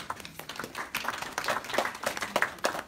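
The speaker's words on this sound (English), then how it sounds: "Got to ask you to please keep the applause" Scattered clapping from an audience at a Texas legislative hearing, loose and uneven, with a few louder claps standing out and no voices speaking over it.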